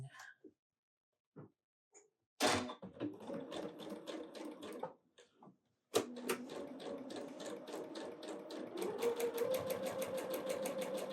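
A sewing machine stitching a fabric bird wing for a Christmas snowman project, with quiet handling noises, then two bursts of fast rhythmic needle hammering and motor whir, close and clear.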